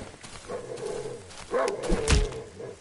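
Dogs in the horror video game Darkwood bark and whimper in short bursts, with a heavy thump midway, moderately loud against a noisy game background.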